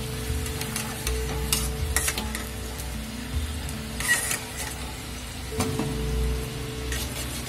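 Mawa-stuffed sweet samosas fry in hot oil with a steady close sizzle and bubbling, plus faint occasional clinks, heard alone without talk.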